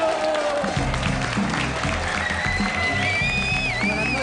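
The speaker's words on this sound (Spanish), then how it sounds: "recibimos con un fuerte aplauso a Paya Hot" A studio audience applauds to welcome a comedy group onto a television show; the dense clapping runs steadily throughout with upbeat music playing underneath.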